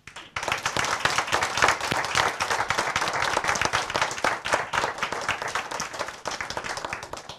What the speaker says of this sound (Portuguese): vamos nós bater uma salva de palmas para vocês todos